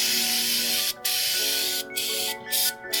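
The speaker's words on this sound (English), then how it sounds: "just clean it off with some brake cleaner" Brake cleaner sprays onto oily differential and transfer case parts in a close, continuous loud hiss, briefly broken by a few short gaps.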